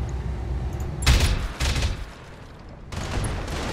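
Mech weapons firing in a video game, two heavy bursts of booming fire about a second apart, loud and near, followed by a later rumbling volley over a steady low hum.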